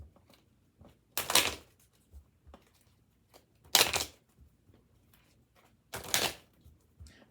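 Tarot cards are shuffled in three quick riffling bursts spaced a couple of seconds apart, close and soft, with small taps and handling noises between them and no talk.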